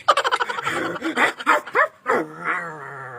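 Several sharp, quick yips from a dog, close by and loud, mixed with excited shouting voices.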